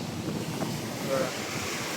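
Sea waves surge into the coastal village of Bharadkhol among moored boats, a steady, close roar of water churned with gusting wind noise and no clear breaks.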